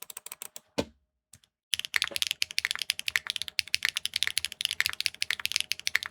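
Rapid typing on a Neo65 Core Plus mechanical keyboard with HMX linear switches, dense clacky keystrokes close by, broken by a brief pause before resuming in a fast steady flurry.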